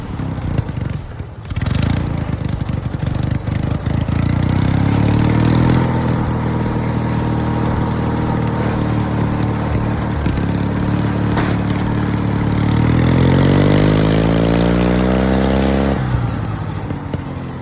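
A small homemade DIY vehicle with a widened front axle drones loudly on a test ride down a road, its engine revving up and down in long rising and falling sweeps, close and continuous, with no voices.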